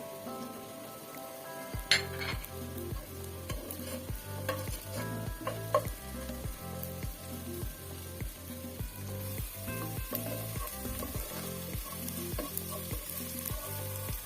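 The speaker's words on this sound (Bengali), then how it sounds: "মশলা পেঁয়াজ দিয়ে দিলাম এলাচি দারচিনি বা পেঁয়াজের সাথে ভেজে নিব" Onion frying in hot oil with cardamom and cinnamon, a steady close sizzle broken by repeated rhythmic stirring scrapes of a utensil against the pan.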